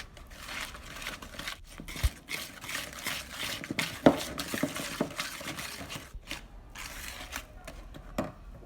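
A spoon works through a shortbread mixture as powdered sugar is added, giving soft, irregular scraping and clinking strokes against the bowl at close range, with a few sharper knocks.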